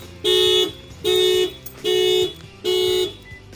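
A 2023 Toyota GR86 alarm with a shock sensor add-on sounds off, four loud, even horn-like blasts with short gaps between them, close by and alone.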